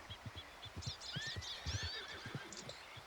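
A horse in Red Dead Redemption 2 whinnies loudly over rapid galloping hoofbeats, the neigh rising and falling across a short burst of thudding strides.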